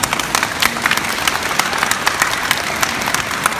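Dense applause from an audience at a live stage show, many hands clapping steadily and fairly loudly for a few seconds without speech.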